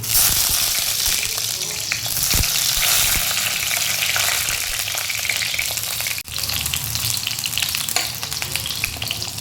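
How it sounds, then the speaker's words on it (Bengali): Eggplant pieces fry in hot mustard oil with a steady, loud sizzle and crackle that fills the whole stretch, broken by a brief sharp dip partway through. "আর না তার আগে বেগুনটা ভেজে নেবো"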